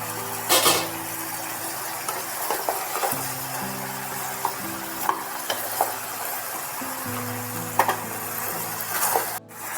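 Papaya, beans and carrot stir-fry in a pan for chicken stew, a steady sizzle with repeated spatula scrapes and clanks against the pan and a low hum underneath.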